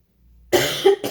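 A single harsh cough from a woman recovering from a bad cold, loud and close after a brief quiet moment, with a short second burst trailing after.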